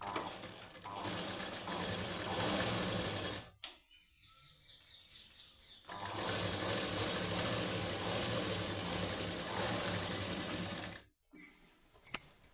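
A sewing machine stitches the high neck of a plain blouse in two long runs of close, loud, steady whirring and needle chatter, separated by a short pause, then a brief restart with a few clunks at the end.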